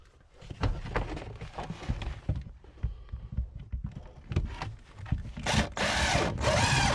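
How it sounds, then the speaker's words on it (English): A power drill drives screws into the wall of a camper van conversion during a bench seat and bed rail build, with several short whirring bursts and clattering handling noise, ending in longer loud drilling runs. "I'm just going to get some screws in here."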